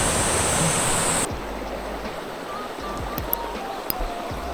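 Flowing water of a mountain stream at a trout fishing area, a steady broadband rush that drops to a softer, more distant murmur after a second, with a few faint clicks.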